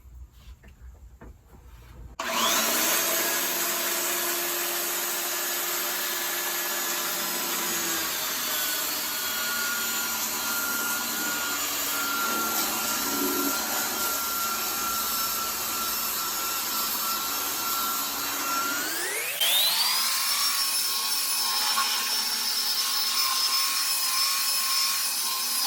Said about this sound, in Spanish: vamos a darle a la lijada